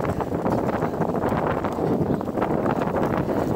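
Steady wind buffets the microphone, a constant rough rumble and rustle with no pauses.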